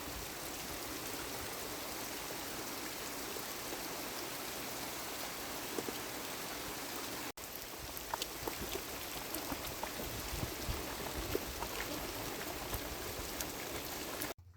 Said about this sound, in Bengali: জোরে বৃষ্টি হচ্ছে দেখো